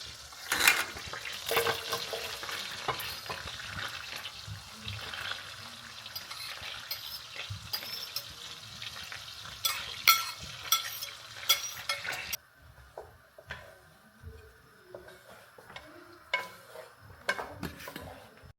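Onion frying and being stirred in a pan, with steady sizzling and scraping stir strokes near and moderately loud, quieter after a brief break.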